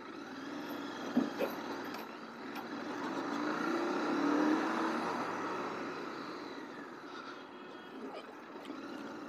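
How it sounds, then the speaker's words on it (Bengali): A Royal Enfield GT 650 twin engine and exhaust droning on the road, swelling to a fuller rumble mid-way then easing off into a softer steady hum, with no speech. "GT650 সিম্ফনি, এই যে সাউন্ডটা, এটার মধ্যে একটা আলাদা মজা আছে।"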